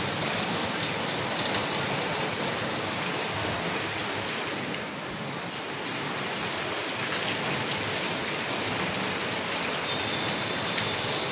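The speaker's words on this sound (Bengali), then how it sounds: "খুব বৃষ্টি পড়ছে বাইরে।" Dense, continuous downpour hisses evenly throughout, a heavy rain drumming on surfaces nearby with no voices.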